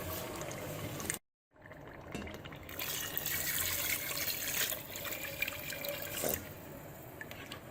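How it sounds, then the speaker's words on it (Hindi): Water is poured from a glass into a pot of browned goat trotters in a home kitchen, a close, steady splashing stream that briefly drops out before resuming and continuing to the end. "अब हम इसमें 4 गिलास पानी ऐड कर देंगे।"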